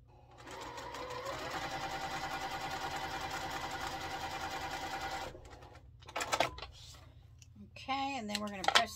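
A sewing machine stitches fabric for a quilt block, running in a fast, even mechanical rattle for about five seconds, then stops; handling noises and a person speaking follow.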